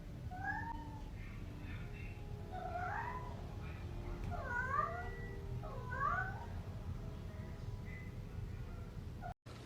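A cat meows several times in a room, short rising and falling cries spaced over several seconds, fairly close but quiet over faint background hiss.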